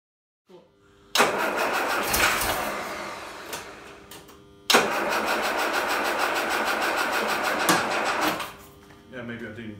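Land Rover Series 3 engine with a restored fuel system cranking twice, each a loud steady whirring run of several seconds, the second ending abruptly; brief voices are heard around it.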